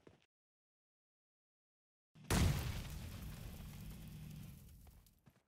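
A grenade detonates beneath a vehicle in PUBG Mobile, a single sudden loud boom after silence, followed by a long rumbling, crackling decay that fades out over several seconds.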